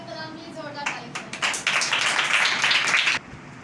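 A church congregation bursts into loud clapping after someone speaks, building from a few scattered claps into a dense, vigorous round of applause that ends abruptly.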